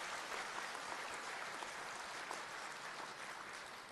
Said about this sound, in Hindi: जब ताली बजाना तो दिल से बजाओ